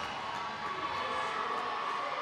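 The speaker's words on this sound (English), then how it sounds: "The crowd shows their approval." Spectators at a roller derby bout cheer and whoop in a steady, moderately distant roar lasting a couple of seconds.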